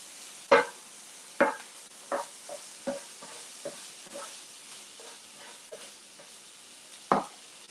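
Hibachi vegetables stir-frying at home, with a quiet sizzle under repeated sharp scrapes and taps of a utensil tossing the food, about a dozen strokes at an uneven pace, close and fairly soft.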